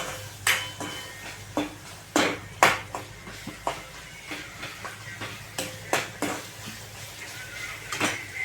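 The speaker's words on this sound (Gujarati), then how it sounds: "પછી નાખી દઈએ મીઠું, મિક્સ કરી દો।" A spoon clinks and scrapes against a bowl while salt is mixed into bread pakora batter, with sharp irregular taps close by and no talking.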